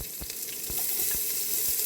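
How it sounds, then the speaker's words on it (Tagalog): Onion hits a hot cooking pot and sizzles in a loud, continuous hissing fry, with a few soft knocks of stirring and no talking. "mainit na po ang ating kaldero at ating ilagay ang ating onion"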